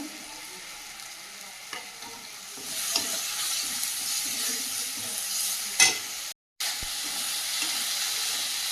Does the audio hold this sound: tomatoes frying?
yes